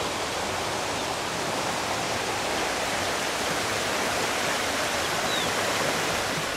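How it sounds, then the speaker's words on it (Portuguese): The Avencal waterfall roars in a dense, steady wash of falling water, loud and unbroken with no voices. "É a cachoeira do Avencal"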